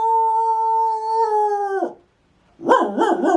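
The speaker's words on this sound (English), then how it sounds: "Make the dog sound." A children's toy plays an electronic dog sound: a long steady synthetic howl, a short silence, then warbling bark-like tones, loud and close.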